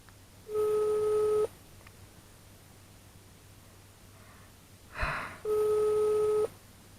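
Telephone busy signal heard while calling someone: two long, even electronic tones about a second each, separated by a quiet gap with a brief click, faint background hiss.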